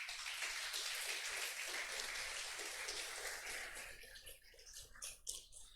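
A church congregation applauding together, a dense steady patter of clapping that gradually thins and fades toward the end.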